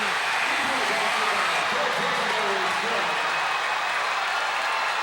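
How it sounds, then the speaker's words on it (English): A loud, sustained roar of a basketball crowd cheering for the Glendale Falcons in a high school game against Kickapoo, a dense wall of yelling and clapping that fills the whole moment, with a commentator's voice partly audible beneath it. "listen to this crowd"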